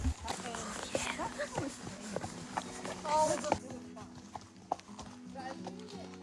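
Hooves clip-clop at a steady walking pace as three seasoned horses and a mule move along a wooded mountain trail in Montana, close by, while people talk over the hoofbeats.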